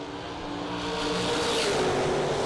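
Drag race cars, including a 57 Chevy Roadster, roar continuously down the strip in a dense, loud wash of engine noise that swells slightly as they run, heard from a distance at the track.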